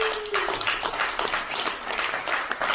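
A crowd at a magic convention show claps in a steady burst of applause, close and fairly loud throughout.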